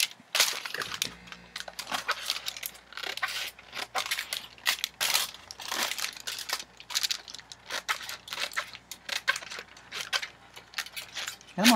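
Edges of a Gelli print are trimmed with sharp, irregular snips and rustling paper handling close to the microphone, a quiet series of crisp cuts with faint background hum.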